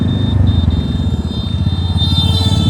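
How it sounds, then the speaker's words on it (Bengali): A group of eight motorcycles riding together makes a loud, close engine drone with a fast pulsing throb and a steady high whine running through it. "এবার টোটাল 8টা বাইকে আজকে রাইড হতে চলেছে"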